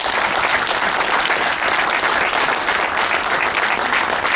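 An audience applauds at the opening of a campaign office, giving steady, dense clapping that is loud and continuous throughout with no pauses.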